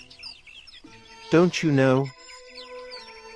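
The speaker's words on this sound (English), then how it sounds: "Why are they suddenly chirping so loudly?" Many birds chirp and call busily close by, bright repeated tweets running throughout while a voice speaks briefly over them in the middle.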